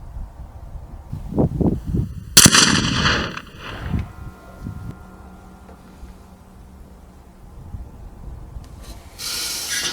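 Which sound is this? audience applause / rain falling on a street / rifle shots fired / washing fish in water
rifle shots fired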